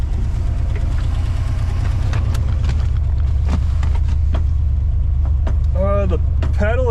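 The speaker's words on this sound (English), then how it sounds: "sounds like a bunch of blown out mufflers is what it sounds like." A 1964 Oldsmobile 98 V8 idles through blown-out mufflers, giving a loud, steady low rumbling drone close by, with a voice talking over it toward the end.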